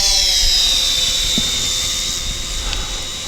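A FUAV Seraphi GPS quadcopter climbing at full throttle, its motors holding a loud, steady high-pitched whine with a sustained buzzing drone throughout, and no voices.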